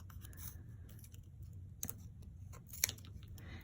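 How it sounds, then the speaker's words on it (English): Scissors cut a piece of foam tape down the middle for a card, giving a few quiet, close snips with sharp clicks against faint background hum. "I take a piece like this and I cut it down the middle"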